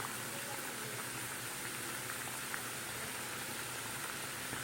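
A pot of yam kofta curry boils with a steady, dense bubbling hiss, low and continuous with no talking.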